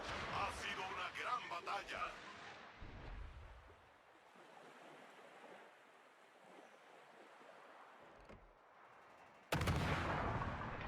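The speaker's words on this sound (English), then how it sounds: "he is putting those shells right on target" Naval guns fire shells in a warship video game, with booming reports over a wash of sea and wind noise, a sharp loud burst near the end, and someone talking over it.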